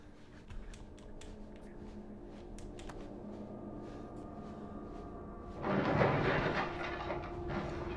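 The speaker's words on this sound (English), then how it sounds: "I hear some furniture moving." Furniture is dragged and shifted in the Resident Evil 7 game, a faint creaking clatter over a dim ambient hum that grows into a louder scraping rush in the last seconds.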